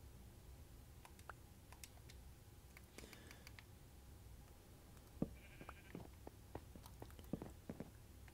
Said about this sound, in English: I don't know where that sheep is, but I want to kill it.